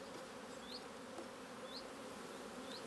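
Honey bees on brood frames in an apiary, with young bees emerging across the comb, give a steady, continuous hive hum with a few faint higher buzzes passing through.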